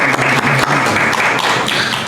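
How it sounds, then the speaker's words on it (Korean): A church congregation applauds during a Sunday service, loud and close, with a dense patter of many hands and a few heavier individual claps standing out. "박수 한번 치겠습니다."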